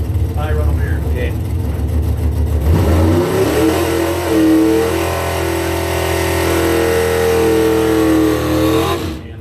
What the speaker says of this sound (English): Looks like Road run for Corby as his opponent could not make it to the line